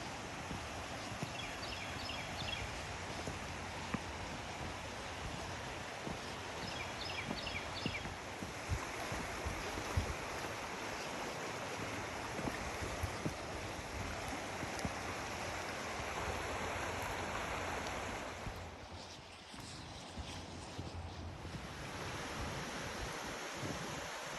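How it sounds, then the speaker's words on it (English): Creek water rushes steadily beside a wooded hiking trail loop in a state park, a broad continuous wash running throughout with occasional faint bird chirps, no talking. "we're back down here near the creek"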